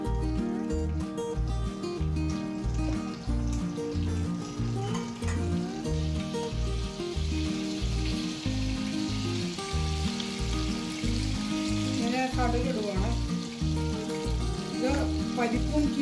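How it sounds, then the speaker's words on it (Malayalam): Mustard seeds splutter in hot oil as a pan tempering for a Kerala spinach and lentil curry, giving a loud, steady sizzle with bursts of sharp crackling and popping near the end, heard close up. "എണ്ണ ചൂടാകുമ്പോഴത്തേക്കും കടുക്"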